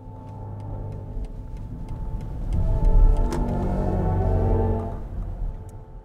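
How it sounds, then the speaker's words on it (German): A BMW i7 electric luxury car plays its synthetic driving sound while accelerating, a low humming drone with tonal layers that swells in the middle and then fades slightly, heard from inside the cabin. "sobald man da beschleunigt, hat man in Expressive, in Personal, in Sport natürlich verschiedene Sound-Modis auch."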